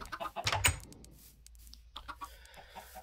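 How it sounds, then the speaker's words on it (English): Chickens clucking in a cave-diving building video game, a few short clucks and squawks bunched near the start, fairly close, then fading into quieter ambient sounds with no talk. "Still, we have a good number of chickens,"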